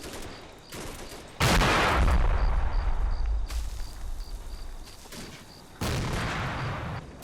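Sporadic mortar fire from Combat Mission: Red Thunder, with heavy booming blasts bursting in and rumbling away in a few loud waves, over a faint insect-like chirping in the background.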